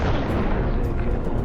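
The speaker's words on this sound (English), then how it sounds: "Then, a massive secondary explosion." A massive secondary explosion from a fuel or ammunition truck in a Russian vehicle column hit by HIMARS, heard as a loud, dense, continuous low roar that fills the whole short moment.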